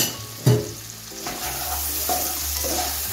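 Chopped tomato with salt, turmeric and Kashmiri chili powder sizzles steadily in a pan for an egg posto dish, with a sharp clank of the utensil near the start and scraping stirs throughout.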